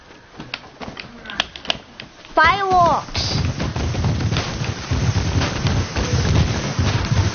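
Fireworks going off in a video game: a run of sharp crackling pops and a whistling rise, then a loud sustained burst of booming and crackle that rumbles on, with a player's voice over it.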